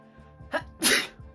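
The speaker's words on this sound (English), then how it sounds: "So I'm gonna sneeze." A single sharp sneeze with a short breathy intake just before it, close and fairly loud, with no talking.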